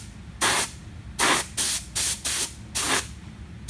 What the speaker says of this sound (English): this is my Harbor Freight Special paint gun. So as y'all know, it's gonna have an amazing spray pattern.